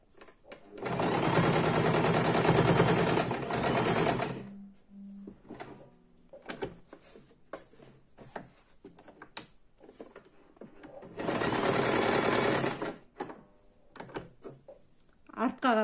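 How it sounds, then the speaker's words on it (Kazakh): A sewing machine stitches patchwork fabric in two loud, steady bursts of several seconds each, separated by quieter handling clicks and rustles of cloth. "Астын тартып отырып тігесіздер"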